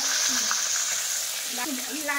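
Fish frying in oil while being flipped over in a Bengali home kitchen, with a steady loud sizzle throughout and a few soft scraping and spatula clinks near the end.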